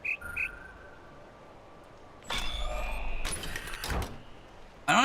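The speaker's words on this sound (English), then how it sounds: "I don't have the patience to sit here and listen to birds over and over again." Bird chirps and calls from The Witness, a puzzle video game, sound in short bright bursts against a quiet ambient bed, with a couple of louder clustered calls and a final sharp trill near the end.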